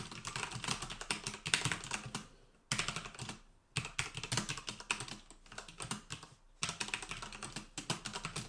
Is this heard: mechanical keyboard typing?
yes